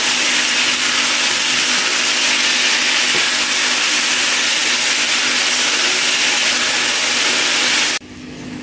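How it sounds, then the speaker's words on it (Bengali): Green peas frying in a pan with tofu and vegetables, a loud, steady hiss and sizzle that continues unbroken for about eight seconds, then drops abruptly to a quieter background. "মটরশুঁটি দেওয়ার পর আমি বেশ কিছুক্ষণ ভেজে নেব।"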